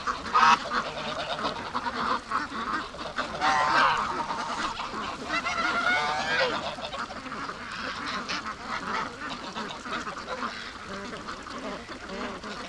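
A big goose honks repeatedly near a farm pen along with duck quacks, a series of sharp, fairly close calls clustered in the first half, with muddy ambient noise and faint background talk.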